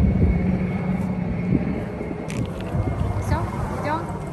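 A steady low rumble of aircraft, helicopters and airplanes flying over Konstanz, fills the background for the whole stretch, with faint murmuring voices and scattered light clatter on top.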